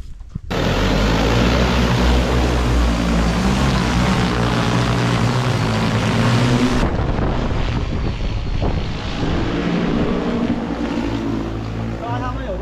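A low-flying crop-spraying airplane passes over farm fields, its engine and propeller roaring loud and steady for several seconds before dropping abruptly as it moves off, leaving a fainter drone with wind noise.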